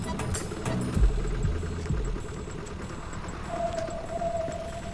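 A motorbike engine idling and being pulled aside to park, a steady mid-pitched rumble with a few low revs near the start and a thin whine later, heard close without talk.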